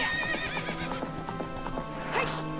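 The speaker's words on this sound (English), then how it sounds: "Just get on the freaking horse!" A horse in the video game Zelda: Ocarina of Time whinnies loudly over quick clip-clop hoofbeats as it gallops, with a brief shrill game sound effect near the end.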